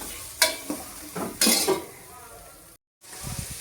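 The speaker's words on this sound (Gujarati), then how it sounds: "મરચાં નાખી દઈશું આપણે. ટમેટા નાખી દઈશું." Chilies and tomatoes frying in a pan, a soft sizzle under a few quick bursts of stirring and utensil scrapes against the pan, fairly faint and close, with a short dropout near the end.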